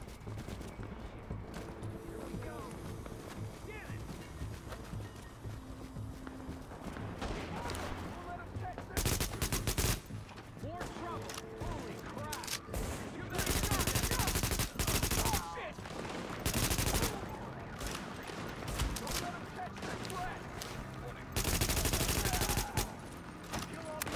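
Gunfire crackles in The Division during a fight at the Lincoln Tunnel checkpoint, with repeated automatic bursts and loud volleys, some long and dense, mixed with shouted game dialogue.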